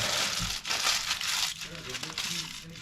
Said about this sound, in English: Remove the tin foil, the aluminium foil.